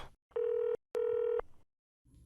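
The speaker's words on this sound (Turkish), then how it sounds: "Telefon çalıyor." Two long electronic telephone rings sound in a row, each a steady buzzing tone of about half a second, clear and close, separated by a short gap and followed by quiet.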